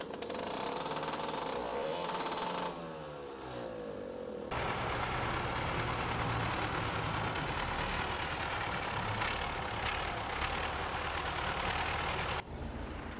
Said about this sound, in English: The diesel engine would be a V or a four cylinder. So yeah, let's listen to it again.